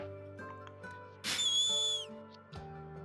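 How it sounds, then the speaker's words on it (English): A pair of sharp, high whistles sound in quick succession, loud and ringing for under a second over a quiet musical backdrop in a desert wasteland scene. "The pair of whistles echo across the waste"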